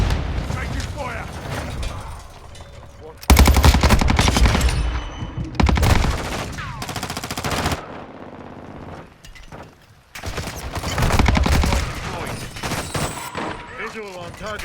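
Automatic gunfire in Call of Duty comes in long, loud bursts separated by brief lulls, with mechanical clatter and radio-style voice callouts mixed in.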